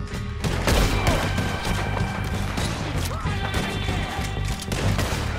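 Dense gunfire and crashing impacts from a Red Dead Redemption 2 firefight, a steady barrage of shots and hits running throughout under game noise and intermittent voices.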